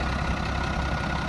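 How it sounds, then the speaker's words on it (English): Schlüter E7800TV tractor with its own 6-cylinder 7.1 litre turbocharged engine idling, a steady, close, low rumble that holds even throughout. "this is the Schlüter, this is the 6-cylinder, Schlüter's own engine"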